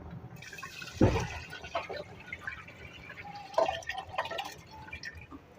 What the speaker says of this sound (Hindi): अब पानी और चावल शामिल करेंगे।